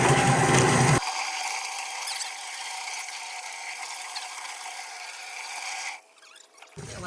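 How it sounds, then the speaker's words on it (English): A chicken plucker machine runs with a steady mechanical churning and rattling drone for several seconds, then cuts out abruptly near the end, leaving quieter noise. "Now we're going on the plucker."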